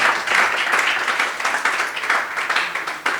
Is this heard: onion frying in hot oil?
no